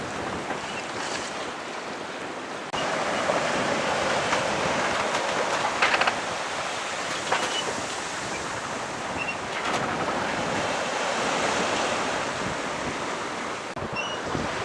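Steady wind roars across the microphone while waves wash and surge around a Jeanneau sailboat running downwind against the tide off Scotland, loud and unbroken with occasional sharper splashes.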